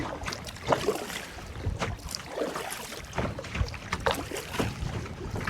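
Strong wind gusts over a kayak out at sea, roaring steadily with water washing and splashing around the boat and blustery buffeting against the microphone throughout.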